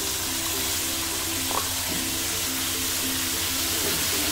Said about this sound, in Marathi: आता आपण यामध्ये टाकतोय दोडका कापून धुवून घेतलेला आहे स्वच्छ.